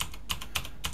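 Several crisp keystrokes on a computer keyboard while a new field name is entered in ArcGIS Pro, a few close, evenly spaced taps over about a second with no talking.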